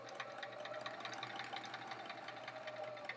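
A home sewing machine running steadily after a belt replacement, giving a smooth, even mechanical whir with fine rapid ticking, close up and alone without speech.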